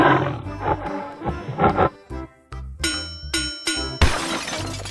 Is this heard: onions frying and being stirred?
no